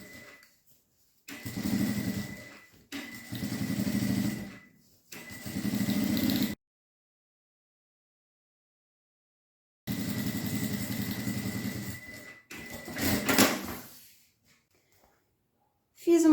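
A sewing machine topstitches along the edge of a coin purse in several loud, close bursts of rapid whirring, separated by pauses and a stretch of silence.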